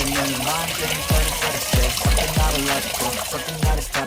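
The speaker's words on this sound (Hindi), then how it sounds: "मशीन में मैंने इतना पानी भर लिया है जिसमें कि अच्छे से डिप हो सके" Water splashes and drips in a washing machine filled for soaking fabric, with repeated sloshing plops close by while a person talks over it.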